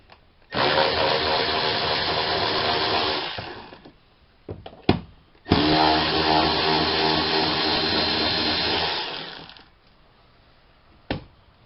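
A power tool fitted with a socket backs out two bolts, giving two sustained whirring runs of several seconds each, separated by clicks and short knocks. The sound is close up and no one speaks.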